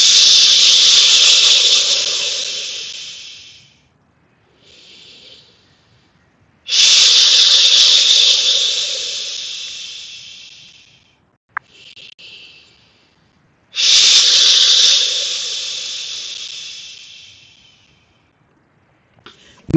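Long, loud, close breaths are drawn in and pushed out during yoga in the Viparita Karani posture, coming as three drawn-out rushing exhalations separated by quiet pauses and softer intermediate breaths.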